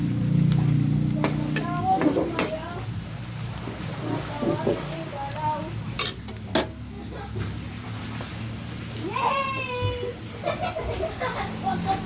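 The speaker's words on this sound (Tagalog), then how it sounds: "Sasangkot siya muna natin ang karne" Pork sautéing in a pan for a dish with alamang, shrimp paste, a close crackling sizzle with scraping stirs and clinks, while a voice talks intermittently over it.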